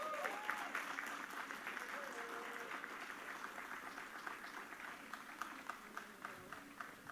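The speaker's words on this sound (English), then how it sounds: "give another round of applause for Sonia" A crowd at an Asian American and Pacific Islander Heritage proclamation ceremony applauds steadily for a speaker, a continuous, fairly distant wash of clapping with faint voices underneath.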